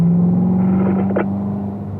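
A race car accelerating on a circuit toward the second set of corners, a loud engine drone that swells briefly and then fades over about two seconds.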